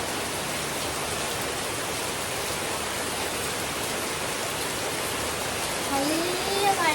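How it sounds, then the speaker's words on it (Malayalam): Heavy rain pours down outside, a steady, dense hiss that fills the whole clip at an even level, with a faint voice-like tone rising near the end. "പുറത്ത് നല്ല മഴ പെയ്യുന്നുണ്ട്, അതുകൊണ്ട് സൗണ്ട് ഉണ്ടാവുമോ? പുറത്ത് ഭയങ്കര മഴയാണ് കേട്ടോ."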